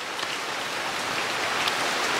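Steady rain falls in the Mekong Delta countryside, a continuous, even hiss of drops pattering on surfaces nearby, with no voices.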